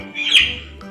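A chicken lets out a single short, shrill squawk that rises and fades within a second, fairly close and loud against a low background hum.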